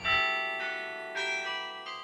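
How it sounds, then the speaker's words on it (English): Carillon bells of the 61-bell Metz Carillon at the highest point on campus ring out in a few overlapping bright strikes with long, shimmering decay, heard clearly and alone. "Gowan starts at the Music Annex and then plays at the Metz Carillon near 17th Street and Jordan Avenue"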